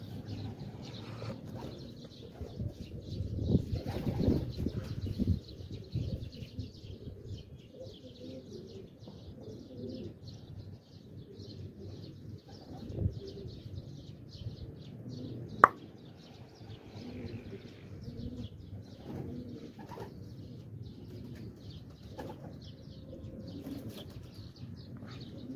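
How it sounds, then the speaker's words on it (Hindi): Pigeons in Quetta, Pakistan, flap their wings and coo around a loft, a low, soft murmur of cooing with bursts of wing flutter, fairly quiet, plus a sharp clap partway through. "दूसरे ताव में मैंने जो है ना जल्दी उठा दिया कबूतरों को"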